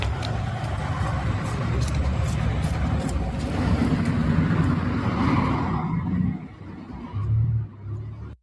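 Road traffic rolls past on a street in the Detroit–Flint area, a steady low rumble of cars and heavier vehicles that swells and fades, with faint voices mixed under it before a last vehicle surges by near the end.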